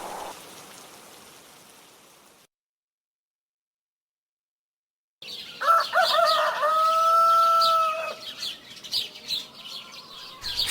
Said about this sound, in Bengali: সকাল সকাল মুরগির ডাক আর পাখির চেঁচামেচিতে ঘুম ভাঙতেই